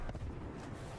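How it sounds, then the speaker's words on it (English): A creeping barrage artillery strike in Apex Legends during a pro league match, heard as a dense low rumbling burst of distant booms that stays steady for about a second. "Calling in the creeping barrage."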